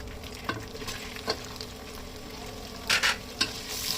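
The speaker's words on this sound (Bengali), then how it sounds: "পেঁয়াজ কুচি দিয়ে নিয়ে দিচ্ছি হালকা ব্রাউন হওয়া পর্যন্ত অপেক্ষা করব" Chopped onions fry in mustard oil with garam masala, a steady sizzle with occasional sharp scrapes and stirs of a spatula against the pan at close range.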